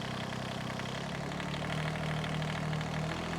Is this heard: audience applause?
no